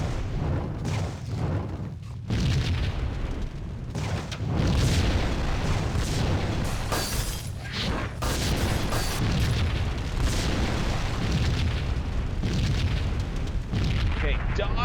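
Fiery explosions and blasts rumble continuously in the Max Payne video game, heavy booming bursts layered over crackling fire and debris, loud and close throughout, with a voice speaking over them at times.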